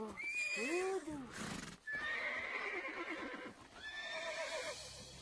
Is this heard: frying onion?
no